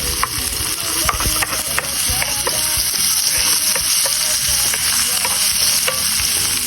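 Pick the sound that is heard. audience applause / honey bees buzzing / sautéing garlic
sautéing garlic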